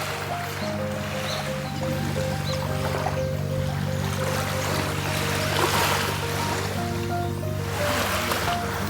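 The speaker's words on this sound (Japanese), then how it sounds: "波もね穏やかで" Calm ocean waves wash steadily along the shore at Kakeroma Island in the Amami islands, a continuous soft surf with a low droning hum underneath and no talk.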